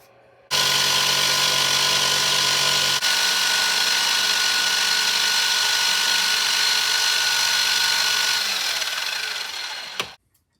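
Lathe cutting the bed part of a PM Research model lathe, a steady loud machining whir with a high tonal whine that runs for about ten seconds, then spins down and stops.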